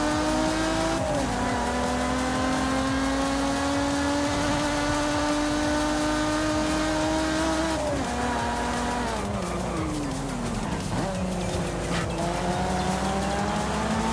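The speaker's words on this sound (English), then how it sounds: "Oh, listen to that engine." A Mercedes in the racing game Forza Horizon 5 roars with engine revving that runs steady, then drops and climbs through gear changes, with tire squeal. It is loud and continuous, with no talk.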